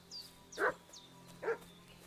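A dog barks twice in the video game Kingdom Come Deliverance 2, giving short, distinct woofs at a moderate distance, with faint higher chirps behind them.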